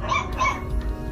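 Small puppies yelping during a cobra attack, two shrill high cries close by in quick succession, followed by softer whimpering.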